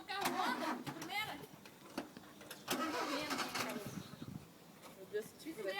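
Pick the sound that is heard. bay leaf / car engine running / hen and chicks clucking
car engine running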